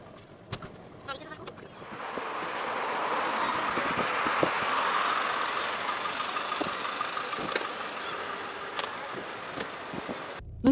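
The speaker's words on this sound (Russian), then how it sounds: "Нашли машину, едем дальше." A car driving, with steady engine and road noise swelling in after a couple of seconds and holding at moderate level, broken by occasional clicks and knocks, and a voice speaking over it.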